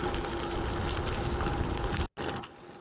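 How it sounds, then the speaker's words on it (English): Wind buffets the microphone while riding an electric bike, a loud, steady rumbling roar that cuts out for an instant and returns slightly softer, with no speech. "Oh, wind's picking up again."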